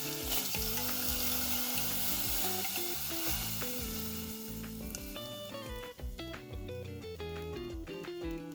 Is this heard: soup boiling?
yes